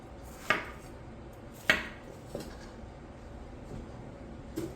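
A knife chops a red pepper on a cutting board during home weeknight cooking, giving a few sharp, separate cuts at an uneven pace, close and moderately loud with no talking.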